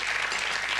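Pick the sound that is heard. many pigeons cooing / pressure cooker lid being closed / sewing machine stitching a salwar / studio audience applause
studio audience applause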